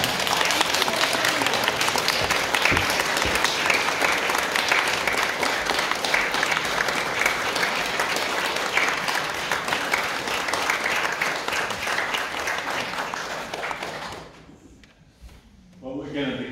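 A church congregation applauds enthusiastically during a Sunday communion service, a dense, steady wash of many hands clapping for about fourteen seconds before it fades out, leaving brief low murmurs.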